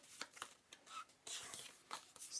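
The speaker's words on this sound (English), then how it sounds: "Start riffle shuffle." Playing cards riffle-shuffled during a solo tabletop game, heard as a few quick, papery bursts of fluttering rattle separated by short pauses, moderately close and fairly quiet.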